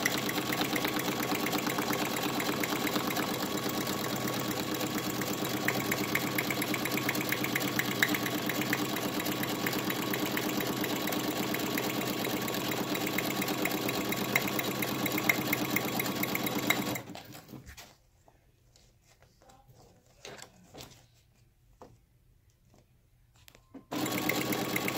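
Sewing machine stitching Teflon pillow fabric, a steady close mechanical whir that runs for about seventeen seconds, then stops to near silence before starting again briefly at the end.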